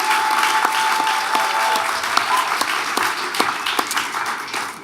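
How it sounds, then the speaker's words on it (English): Applause at an awards ceremony for the writers guild awards committee and staff, a dense sustained clapping from a large seated audience, loud and even across the whole stretch. "let's all please give a round of applause to our outstanding awards committee and staff"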